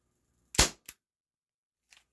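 A Cybergun Baby Eagle airsoft pistol fires once, a sharp close crack followed by a quick mechanical click, then a faint small tap after a short silence.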